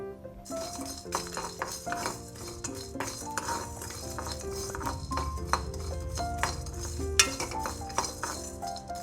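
Spices dry-roasting in a pan while being stirred, with busy metallic scraping, clinks and rattles of a utensil against the pan, close and continuous.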